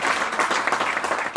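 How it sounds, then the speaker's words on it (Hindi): An audience at a national meeting, seated in a hall in cold weather, claps together, a brief burst of many hands that stays dense and even from start to finish. "तो सिर्फ तालियां अपने लिए बजा लीजिए"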